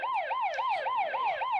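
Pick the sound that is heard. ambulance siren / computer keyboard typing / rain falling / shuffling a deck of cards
ambulance siren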